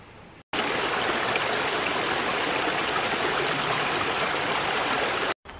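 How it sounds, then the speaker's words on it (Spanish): A mountain stream on the GR-11 Pyrenean trail near the Navarra border rushes steadily and close by, a dense, even broadband wash of flowing water that holds unbroken for about five seconds, with brief quiet gaps at each end. "Un arroyo me permite llenar la cantimplora antes de llegar a la carretera"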